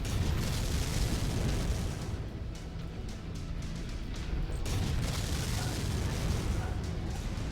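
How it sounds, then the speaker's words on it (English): Missile barrage explosions from the MechWarrior 5 Mercenaries video game, heard as a dense, continuous roar of overlapping booms and bursts that stays loud through the whole stretch, with a brief dip in the middle. "somebody's gonna have a bad day on the end of that missile barrage"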